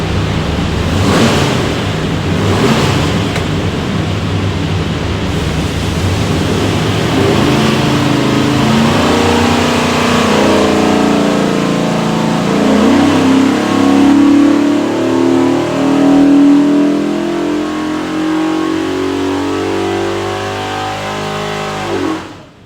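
A 427ci small block Ford with a custom hydraulic roller cam and front sump pan runs on a dyno, a loud sustained engine roar that climbs steadily in pitch through a long pull, then cuts off abruptly.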